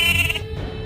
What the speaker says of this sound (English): the couple noticed a mother sheep who was stuck in the river and could not get out